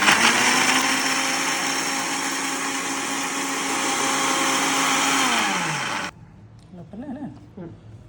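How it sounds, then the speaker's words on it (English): A mixer grinder (mixie) blending homemade curd whirs loudly and steadily for about six seconds, then spins down and stops, after which a voice speaks softly. "I can't put too much curd into the mixie because it will start splattering"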